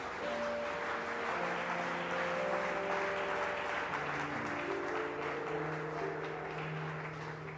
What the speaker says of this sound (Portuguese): Aplauda fortemente